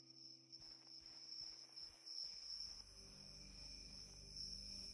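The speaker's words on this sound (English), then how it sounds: "Then you can hear the crickets or the cicadae." Crickets or cicadas chirp in the video game cyubeVR, a steady high-pitched insect drone that runs unbroken throughout, over low rumbling ambience.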